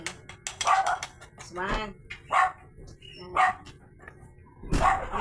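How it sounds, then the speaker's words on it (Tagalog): A dog barks outside in short repeated bursts of yips, somewhat distant, while a person talks nearby during a desk fan and stand fan assembly. "yung aso ko kumakahol sa labas"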